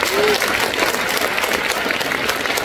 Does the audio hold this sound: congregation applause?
yes